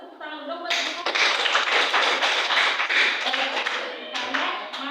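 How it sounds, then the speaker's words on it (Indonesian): A class of schoolchildren claps for their teacher during a primary-school lesson. The dense, steady applause starts suddenly, fills most of the moment and thins near the end, with some talking mixed in. "Bagus, tepuk tangan dong buat ibu."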